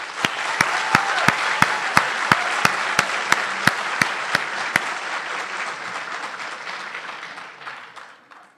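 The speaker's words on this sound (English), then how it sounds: "So please, join me and give a round of applause to the committee." An audience at a school's 100th anniversary program applauds the organizing committee, a sustained wash of clapping under a steady beat of loud, evenly spaced claps that stop after about five seconds while the rest fades out gradually.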